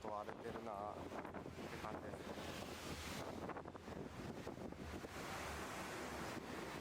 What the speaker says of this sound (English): The waves are a little bit high.